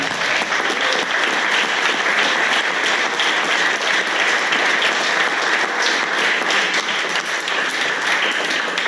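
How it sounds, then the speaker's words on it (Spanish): A church congregation claps in praise, a loud, dense, unbroken wash of hands that holds steady for about nine seconds, heard from within the room with no voices over it. "Hoy no he escuchado aplausos, pero de repente le puedo dar uno al Señor."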